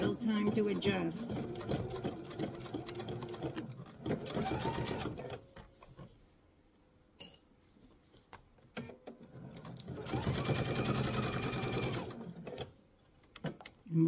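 A sewing machine stitches a mesh tote in steady whirring bursts, running slowly in two long stretches with pauses between, while someone talks over and between the runs.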